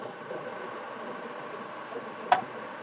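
A three-phase alternator in a lab load-test setup runs steadily at 1500 rpm, giving a low continuous machine hum and whir with one brief click near the end.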